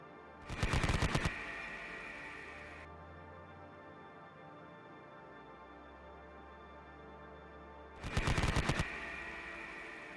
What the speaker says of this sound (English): they're going to be firing with their HMGs